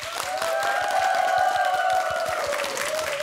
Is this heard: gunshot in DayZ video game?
no